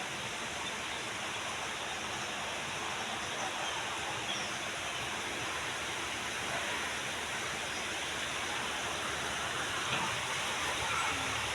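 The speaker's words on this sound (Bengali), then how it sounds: "দেখেন কি অসম্ভব সুন্দর বৃষ্টি হচ্ছে।" Steady rain falls on a cool morning, a constant broadband wash of droplets with no breaks, moderately quiet and even throughout with no voices.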